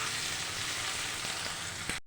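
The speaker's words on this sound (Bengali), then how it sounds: "আলু দিয়ে এবার কিছুক্ষণ আমি 2-3 মিনিট নাড়াচাড়া দিয়ে নেব।" Boiled potatoes frying in hot oil with onion and cumin seeds, a steady close sizzle throughout with a soft clink of stirring near the end.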